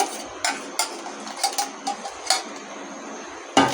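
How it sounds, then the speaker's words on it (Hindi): A spoon clinks steadily against a pot while stirring a vermicelli mixture into milk over medium heat, making irregular light metallic taps about every half second, close and clear with no talk. "इसको कंटिन्यू चम्मच चलाते रहें"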